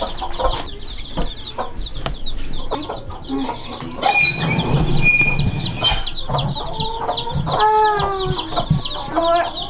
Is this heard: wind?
no